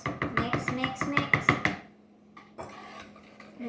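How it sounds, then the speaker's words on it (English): Heavy cream is mixed in a bowl with a quick run of rhythmic clinks and knocks of a utensil against the bowl, then a pause and a few softer taps. "Now mix."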